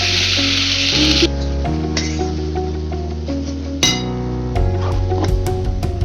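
Green pea paste goes into a hot pan and fries with a sizzle, with metal clinks of stirring and a sustained tonal hum running underneath.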